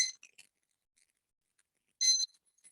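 A kitchen timer emits short, high electronic beeps: a quick cluster at the start, then a longer pair of beeps a moment later, crisp and close in an otherwise quiet room.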